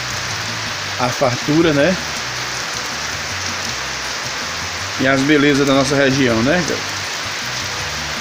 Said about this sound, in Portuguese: choveu muito essa noite e hoje novamente a água tá caindo aí, ó.